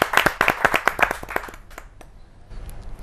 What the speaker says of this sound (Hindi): आपकी जोरदार तालियां मिले विनय विनम्र जी।